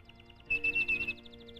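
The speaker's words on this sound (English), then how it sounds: "Like that little old bird up there." A small bird sings a quick series of bright, high chirps, with a short louder trill in the middle, heard faintly in a quiet outdoor setting.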